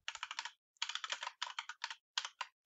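Bursts of rapid keystrokes on a computer keyboard, typed close and alone in quick clusters with short pauses between, as code for a custom function is entered.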